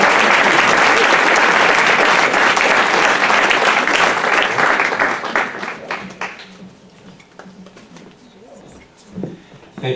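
Audience at a film screening in Toronto giving loud, dense applause to welcome the filmmaker, sustained for several seconds and then tapering into scattered claps as a voice begins to speak.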